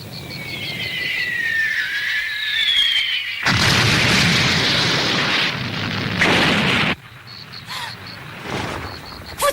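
Artillery shells exploding in a TV drama: loud, near booms and rumbling blasts, with a whistling shell descending before the first heavy impact and another burst later.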